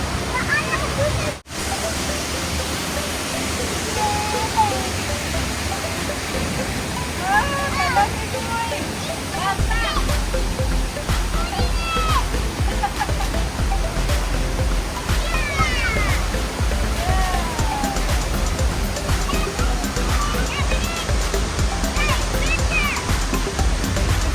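A small outdoor waterfall rushes in a steady, full-bodied wash of water that runs through the whole stretch, with chirping birds and faint voices in the background.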